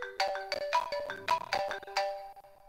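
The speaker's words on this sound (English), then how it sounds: "every time I die or I game end, there's going to be a ringtone" Game-over ringtone from a Scratch dinosaur game: a quick, bright melodic run of electronic notes in a bouncy rhythm, played alone and fairly close for under three seconds.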